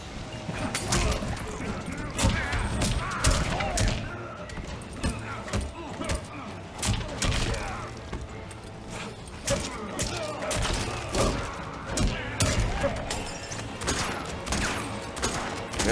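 Bursts of rapid gunfire crackle repeatedly amid thuds and impacts in a Mortal Kombat 11 match, from the character Erron Black, with a voice talking over the action.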